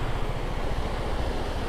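A mountain waterfall rushes down beside a road in the rain, a loud, dense, unbroken roar of water that fills the whole stretch.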